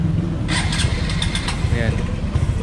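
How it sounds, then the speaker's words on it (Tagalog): A Honda XRM 125 fuel-injected motorcycle with a misfiring engine runs close by, its low, choppy putter sounding uneven and stumbling, with a few faint higher rattles over the top. "XRM 125 mga boss na palyado."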